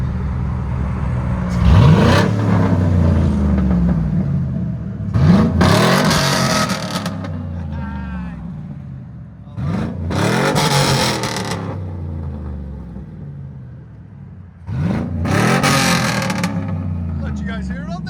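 A 2003-2006 Chevy Silverado SS with a 6.0L V8 and aftermarket exhaust revs hard four times, each deep roaring burst rising and falling back to a rumbling idle, loud and close.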